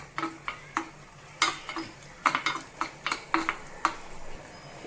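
Cashews and raisins frying in a pan for jackfruit payasam: a spoon scrapes and stirs repeatedly against the pan in an uneven rhythm, with a faint sizzle underneath, close and fairly quiet.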